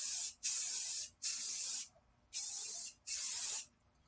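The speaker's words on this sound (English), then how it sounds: "just gonna spray a light coat over this" A spray can lays down a light coat of brown paint from a short distance in four separate bursts, each a loud, steady, close hiss with brief pauses between.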